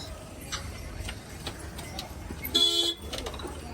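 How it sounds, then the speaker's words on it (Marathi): Sunday traffic on the crowded road to the Bhandara Dongar temple: cars pass with a background hum and faint ticking, then one loud, clear horn honk rises briefly near the middle. "हे गाड्या बघा"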